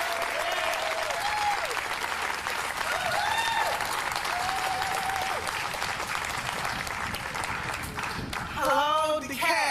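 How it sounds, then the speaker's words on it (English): Audience at a Juneteenth county celebration standing and applauding as a commissioner comes to the microphone, loud sustained clapping and crowd noise throughout, with voices and brief whoops near the end. "stand up and give Commissioner Mereda Davis Johnson a round of applause as she comes to the mic."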